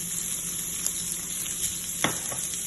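Chicken goes into a pan of frying onions for a kubba filling, producing a continuous, fairly loud sizzle with a brief scraping stir near the end and no talking.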